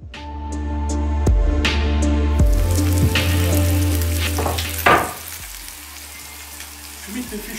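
Sea bream fish for saltimbocca frying in a hot pan: a loud, continuous close-up sizzle with occasional clinks and pops from stirring, tapering off slightly toward the end, with no talking.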